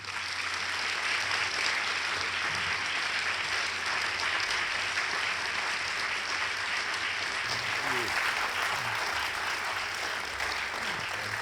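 Sustained applause from a large audience at a public conversation event, steady dense clapping filling the room throughout without letup.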